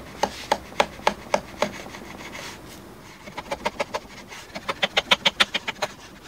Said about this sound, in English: here I found a moment to put my beautiful trimming plane to use.